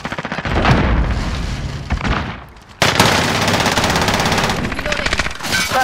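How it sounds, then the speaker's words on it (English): Rapid automatic gunfire and explosive booms from Call of Duty Modern Warfare, including a thrown grenade, with dense bursts broken by a brief lull before the shooting resumes loudly. "Throwing grenade!"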